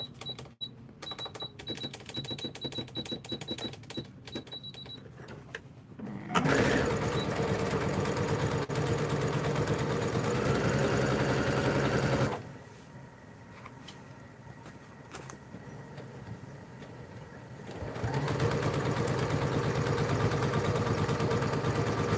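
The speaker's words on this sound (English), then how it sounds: "I will sew a 1/4 inch seam allowance down the one side only" A sewing machine stitches a quarter-inch seam along folded fabric rectangles for a water bottle holder, running in two long steady bursts separated by a pause filled with clicks and handling noise.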